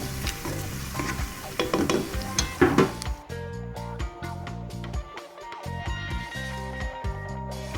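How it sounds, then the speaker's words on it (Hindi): Tomato paste for daal mash fries and is stirred in a pan, giving a steady sizzle with bursts of scraping early on, under a continuous bed of background music. "5 मिनट टमाटर वाली पेस्ट को अच्छे से भूनेंगे ताकि इसका कच्चापन ख़त्म हो जाए।"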